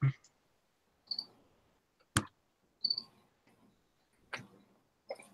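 Sharp, quiet computer mouse clicks come one at a time, spaced about a second apart, with faint muffled voices murmuring between them.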